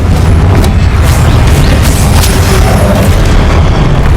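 A Confringo spell explosion in the Hogwarts Legacy video game sounds as a loud, sustained rumbling boom with heavy low-end roar that stays constant throughout, with no speech over it.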